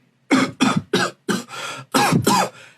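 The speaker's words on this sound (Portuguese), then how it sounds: "E essa tosse aí é Covid?" A person coughs repeatedly and close by, about seven harsh bursts in quick succession with brief gaps, followed by a softer trailing breath.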